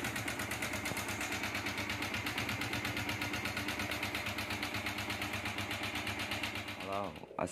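A Yamaha Vixion motorcycle engine idles close by with a rapid, steady chugging pulse, then revs briefly near the end.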